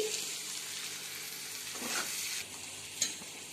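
Malvani mutton fry being sautéd with finely chopped coriander, a continuous bright sizzle with occasional stirring scrapes and a sharp clink near the end, close and unobscured.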